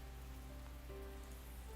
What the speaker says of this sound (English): I hurry to the bridge as the rain grows steadily stronger